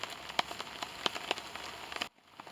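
Steady rain patters on a camp shelter with scattered louder drips, close and continuous, then cuts off abruptly near the end.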